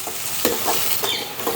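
An onion mixture for plantain bonda filling sautés in a pan, giving a dense, steady sizzle with a few soft stirring scrapes, close up and with no voices.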